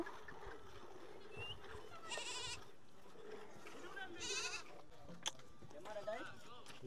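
An orphaned young goat bleats twice, high and wavering, at moderate distance, while people talk quietly in the background, among the Mundari people in South Sudan.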